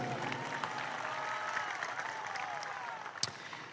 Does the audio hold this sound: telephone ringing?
no